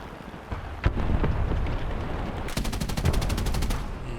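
Heavy .50-cal machine gun fire in War Thunder, scattered booming shots giving way to a fast, rhythmic burst of rounds in the second half, loud and close with rumbling battle noise beneath.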